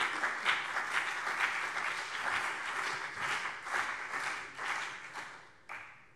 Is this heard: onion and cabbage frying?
no